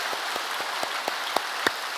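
An audience at a church autumn festival claps in steady rhythmic unison, sharp evenly spaced beats growing slightly louder, over a soft crowd hum.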